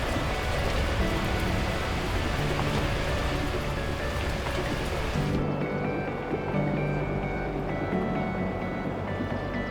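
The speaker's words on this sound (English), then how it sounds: "At that moment, the heavens opened up, unleashing torrential rain." Torrential rain from the video game Beacon Pines pours in a dense, steady hiss that fills the scene, loud and constant, with the downpour shifting to a darker, muffled tone partway through.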